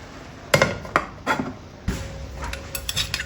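A metal lid set on a cooking pot while making aloo matar pulao, several close, sharp clinks and clatters, followed by a quieter scrape and tap.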